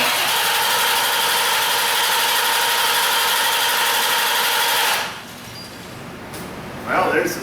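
Chevy Corvette with a no-start-when-hot fault cranking with the throttle held full, a loud steady whirring drone for about five seconds that cuts off abruptly, leaving quieter background and a brief voice.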